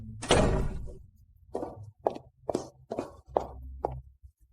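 A door being opened indoors: one heavy thump starts it, followed by a run of softer knocks and bumps spaced through the rest of the moment, close by and with no voices.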